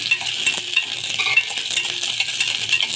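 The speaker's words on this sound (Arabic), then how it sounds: "حطيت حبه زيت صغيرين كده، وقطعت كام قرن فلفل كده اهو" Chopped green peppers sauté in a little oil in a pan, giving a steady close sizzle with light stirring scrapes and clinks, and no talk.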